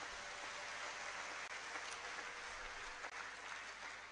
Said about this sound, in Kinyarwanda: yongera Imana amashyi menshi.